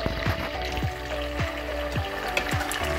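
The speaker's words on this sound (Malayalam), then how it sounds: "നമുക്ക് ഈ ചിക്കൻ ഇതിനകത്തോട്ടിട്ട് ഫ്രൈ" Chicken pieces fry in hot vegetable oil for a Nasrani-style chicken fry, a close, continuous sizzle and crackle broken by a regular series of soft pops and stirring knocks.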